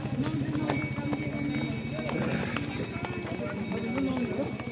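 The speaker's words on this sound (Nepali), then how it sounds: "हेर्नुहोस् अब घोड सवारीमा पनि मान्छे जाँदैछन्," Ridden horses walk along a trail near Muktinath temple, their hooves clip-clopping in a steady, close rhythm while people talk over them.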